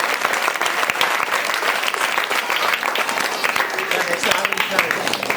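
Teachers and children clapping loudly at a school Independence Day prize giving, energetic continuous applause with individual claps standing out, close and loud, with voices talking over it.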